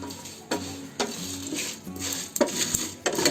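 Whole spices, stone flower and red chillies, being dry-roasted over low heat in a pan, with soft intermittent scraping and knocks of a spoon stirring against metal, quiet and close, no talking.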